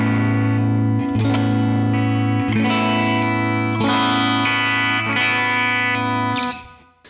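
A Fender Plus electric guitar played through a TONEX pedal preset, sounding as sustained distorted chords with chorus and effects, struck about every second and ringing loud and alone before fading at the end.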